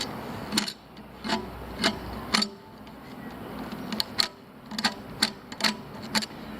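A hand scribe working around rivets and details on an ash door being refurbished: close, sharp scratching strokes in quick irregular bursts, alone with no talk.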